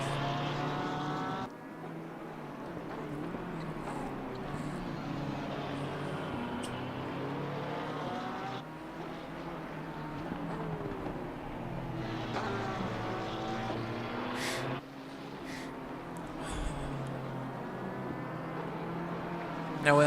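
GT3 race cars, a Porsche and a BMW, racing in a sim game at Zandvoort; loud, sustained engine whine rising and falling through gear shifts, with brief drops between changes.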